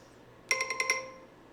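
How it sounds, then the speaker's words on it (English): A Home Assistant security alarm notification chimes on a phone: five quick, bright, ringing tones in an even rhythm, fairly close and clear, fading out into a quiet room. "Immediately got that noise on my phone letting me know."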